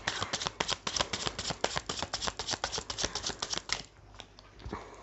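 Tarot cards being shuffled by hand, a rapid run of crisp riffling flicks for several seconds before tapering into a few softer slides and taps near the end; close and fairly quiet, with no talk.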